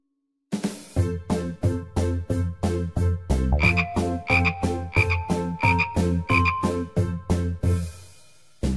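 Frogs croaking in a steady rhythmic series of loud, close croaks, with a musical, cartoonish quality and no talking.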